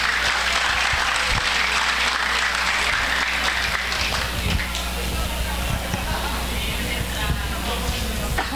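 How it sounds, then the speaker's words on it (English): Warm applause from a commencement audience greets a cum laude graduate, a dense steady clapping that fills the hall for several seconds and thins slightly toward the end. "Let's give her a warm round of applause."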